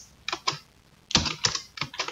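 Bursts of keystrokes on a computer keyboard, clustered clicks in several short uneven runs separated by brief pauses, close and alone with no talking.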